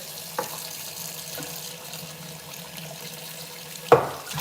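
Tap water runs steadily into a sink while something is rinsed under it, a soft continuous flow broken by a few clunks, with a sharper knock near the end.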